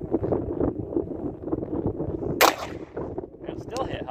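A single sharp gunshot from a Rohm .38 revolver fired outdoors at a bottle target, a short loud crack standing out midway over steady wind buffeting and background rumble.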